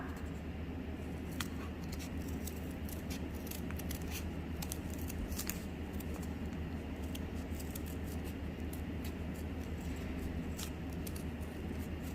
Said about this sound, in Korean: 가위를 가지고 와서 오려보도록 하겠습니다.